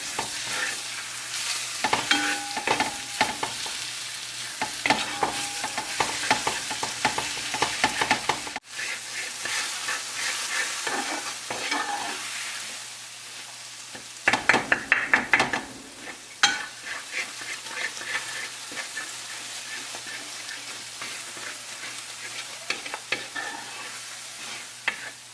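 Lamb brain and grated coconut fry and get stirred in a pan, a steady sizzle broken by bursts of scraping and mashing strokes, with quieter stretches of plain frying between.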